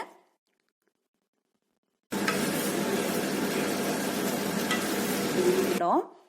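Fried paneer pieces stirred into masala gravy in a hot pan, a loud close sizzle and scraping that starts abruptly after silence and runs steadily for about four seconds before cutting off.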